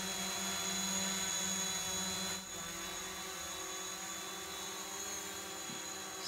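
A DJI Mavic Pro drone hovers steadily at about 1.2 meters after takeoff, its propellers giving a continuous high-pitched whine with a lower hum, alone and with no talking.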